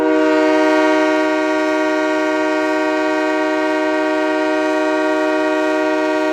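Loud, sustained train horn sounding as a super chat alert, a steady chord of tones that swells at the start and then holds at an even level for about six seconds, with no talk over it.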